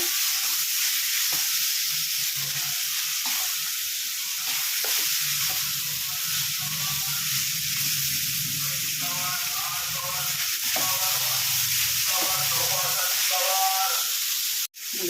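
Chicken sambar masala with turmeric and tomato frying in a pan: a continuous sizzle with soft stirring scrapes, close and steady, ending in a sudden brief knock.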